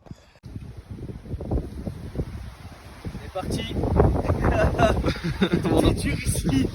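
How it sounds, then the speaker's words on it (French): Strong gusting wind roars and buffets outdoors, growing louder partway through, while a person speaks briefly at the start. "Avec un vent de fou malade dehors."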